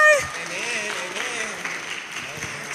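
Audience clapping at a Gen Z voter education event, a moderate continuous patter of hands from a gathered crowd with a voice talking over it.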